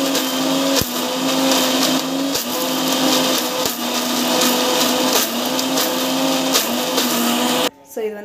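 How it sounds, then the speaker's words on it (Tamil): A mixer grinder runs steadily, grinding ingredients with a loud continuous whirring drone broken by brief dips and pulses, close by, before it cuts off abruptly at the end. "மிக்சியில் ஒரு 10 to 15 மினிட்ஸ் வரைக்கும் நம்ம வந்து அரைச்சா"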